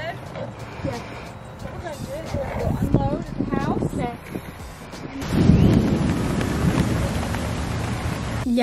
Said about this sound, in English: it started raining, so I'm grounded to the cart